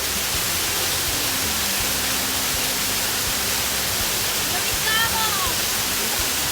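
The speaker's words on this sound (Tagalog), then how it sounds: "Diba, may falls na kasama." Steady broadband roar of a waterfall on a nature trip, a dense continuous rush of falling water with short bursts of people talking over it.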